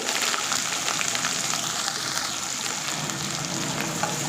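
Chopped onion with green chilli frying in hot oil in a mustard tempering, a steady dense sizzle with fine crackle held at close range, with no voices.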